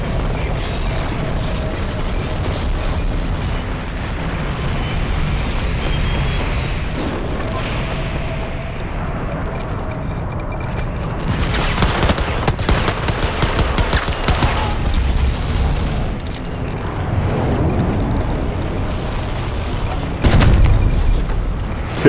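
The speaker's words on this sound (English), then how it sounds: "They're trying to shoot me down so hard, dude." Battlefield 2042 combat fills the scene with near-constant gunfire bursts and heavy booming explosions, loud and dense, swelling in intensity midway, with occasional voice chat barely audible underneath.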